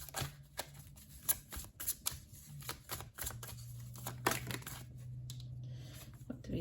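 Tarot cards being shuffled and drawn, soft riffling and slapping card sounds in quick irregular bursts, close and quiet, with a low steady hum underneath and no talking.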